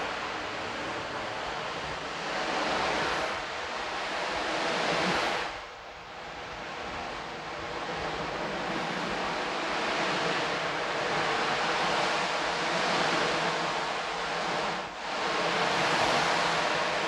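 An ocean drum rolled slowly to mimic sea waves, giving a steady broadband wash that swells and recedes in long surges, with brief dips near the middle and end, played alone with no talking.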